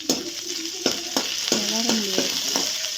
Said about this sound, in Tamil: பூண்டை எடுத்து போட்டு இப்போ அதை போட்டு நல்லா கிண்டணும்.